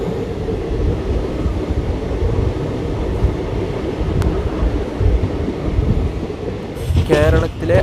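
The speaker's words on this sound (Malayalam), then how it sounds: "കേരളത്തിലെ അവസാന റെയിൽവേ സ്റ്റേഷനായ മഞ്ചേശ്വർ റെയിൽവേ സ്റ്റേഷനിലേക്ക് ട്രെയിൻ എത്തിക്കൊണ്ടിരിക്കുകയാണ്" A train rolls into Manjeshwar railway station in Kerala as a steady, loud rumble with wind noise and a brief squeal near the end.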